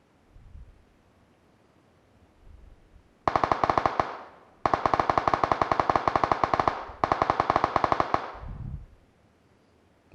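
Rapid automatic gunfire from a first-person shooter video game comes in three long bursts of sharp, evenly spaced shots, loud and close, separated by short quiet gaps.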